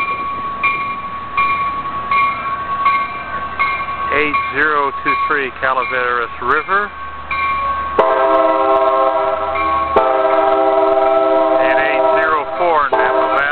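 An Amtrak Capital Corridor train, No. 542, pulls out of Martinez station with a cab car leading. Rail rumble runs beneath a man calling out car numbers, and then loud, sustained multi-tone horn blasts sound close by.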